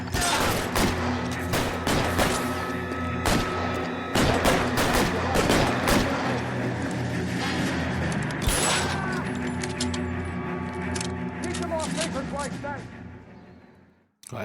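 Sustained shootout gunfire from the video game L.A. Noire, dense overlapping shots and bursts crackling continuously through the scene, loud and close, with voices talking underneath before the firing trails off near the end.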